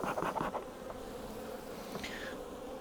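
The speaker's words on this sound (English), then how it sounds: "There's a lot of bees here." Honey bees swarming at an open hive during an inspection, a steady dense buzzing hum, close and soft, with a few brief louder passes of individual bees.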